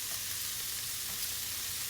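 Vegetables for yakisoba noodles fry in a pan with a steady, even sizzle and crackle, close and constant with no talking.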